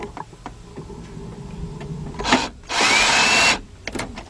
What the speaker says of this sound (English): cordless drill with a 1/4-inch drive extension for sockets and all. And that's all we're going to do is loosen that bolt up.